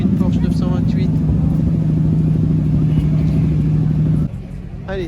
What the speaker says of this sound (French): Et puis 928, il vient d'arriver.